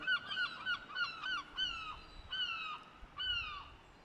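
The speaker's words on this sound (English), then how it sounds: "lots of birds chattering" Geese honk repeatedly at a peaceful coastal cove along a trail, several calls overlapping in quick bursts at moderate distance over a soft ambient background.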